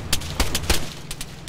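A short run of gunfire in the ArmA military shooter game, several sharp reports spaced unevenly within about a second and a half, mid-distance and moderately loud over a low background hum.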